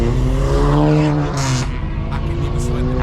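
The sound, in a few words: Volkswagen Golf car passing by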